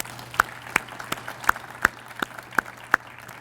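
A few scattered claps ring out from an audience at a United Way kickoff event for county schools, about eight sharp, evenly spaced hand claps over a quiet room hum.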